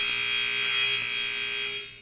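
A loud, steady electronic buzzer tone holds for about two seconds and then fades out at the end, with no talk over it.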